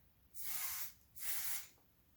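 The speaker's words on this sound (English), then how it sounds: "And to refresh, the dry oil spray" Two short bursts of dry oil hair spray, each lasting about half a second with a brief pause between them, close and fairly soft.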